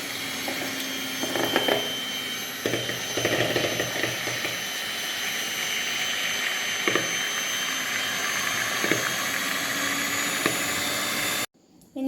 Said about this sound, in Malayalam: ഇനി മുട്ട ബീറ്റ് ചെയ്യാൻ പോകണം